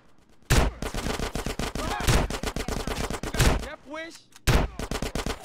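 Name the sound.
suppressing gunfire in the video game GTA San Andreas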